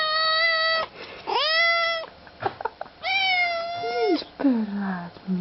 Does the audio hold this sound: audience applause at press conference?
no